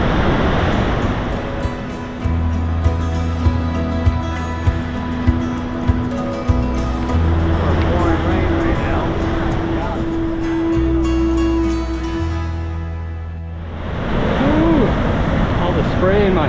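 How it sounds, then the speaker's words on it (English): A steady, loud rush of falling water from a waterfall in Flåm, Norway fills the scene, with a low engine hum running underneath for much of it. "Wow. Look at this waterfall."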